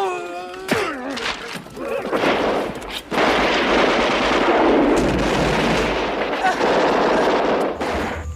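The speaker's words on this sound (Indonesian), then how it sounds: "saat mereka hampir menggeledah barang bawaan, Rhodes langsung memberi kode untuk melakukan penyerangan" Heavy gunfire and sustained machine-gun bursts in a Vietnam War film ambush set in Laos, loud and continuous for several seconds after a brief quieter lead-in, with no voices over it.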